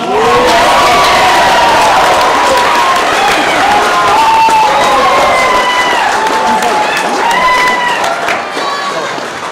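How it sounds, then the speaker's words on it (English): An audience at a martial arts black belt graduation claps and cheers for an award recipient, loud sustained applause with children's shouts and whoops rising over it, tapering slightly at the end. "Please, a big round of applause for Mr. Samuel Benson"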